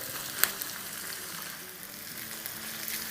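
Chopped tomatoes frying in a pan, a steady soft sizzle with a faint clink near the start, heard alone without talk.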